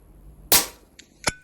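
A sharp, loud shot from an AGT Vixen air rifle cracks out on a windy range, followed by a faint click and a second smaller crack about three quarters of a second later.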